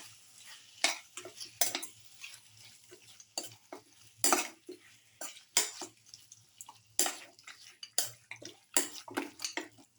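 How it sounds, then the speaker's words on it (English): Mutton pieces are stirred into a lamb casserole mix with a spoon, giving repeated wet clinks and scrapes against the pan in an irregular rhythm, close and clear, with no talk. "So we mix some mutton pieces with the rest of the mix until the mutton pieces are nicely incorporated."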